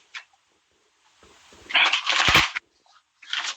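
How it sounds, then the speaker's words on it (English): A deck of playing cards being shuffled by hand in a quick riffle burst lasting under a second, close and crisp, with a few short card snaps before and after. "I'm going to shuffle your deck of cards"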